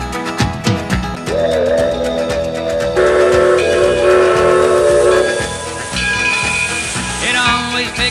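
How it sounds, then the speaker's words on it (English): A steam locomotive whistle sounds as a long sustained tone within a loud full-band country song, with instruments playing throughout. "I love the sound of a whistle."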